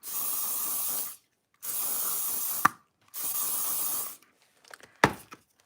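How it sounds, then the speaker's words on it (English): Cheap ultra-hold hairspray sprayed from a can in three long, steady hissing bursts, each about a second, close up, followed by a few faint clicks and taps. "buy the cheapest possible sticky, ultra holding hairspray and use it on everything"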